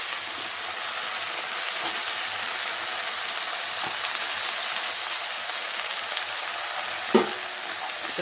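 Drumstick and brinjal sautéing in oil in a pan for a village-style kara kuzhambu, a dense, steady hiss of frying that carries on throughout, with a sharp stir or tap near the end.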